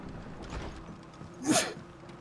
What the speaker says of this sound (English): Pokemon made me sneeze looking at it.